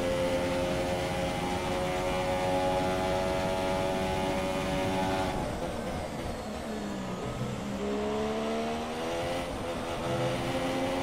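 A Formula 1 race car engine in the F1 2017 video game on the Russia circuit screams at high revs in a continuous loud whine, dipping briefly with gear changes before climbing again.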